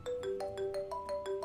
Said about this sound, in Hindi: आपका फोन बज रहा है, किसी लड़की का होगा?